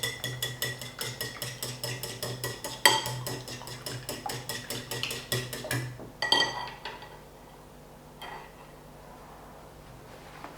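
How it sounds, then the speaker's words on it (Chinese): Two eggs whisked with chopsticks on a plate, a quick steady run of light tapping and scraping strokes, close and clear, that stops partway through and leaves near quiet with a few faint clinks. "第2盘里打入2颗鸡蛋， 用筷子搅散备用"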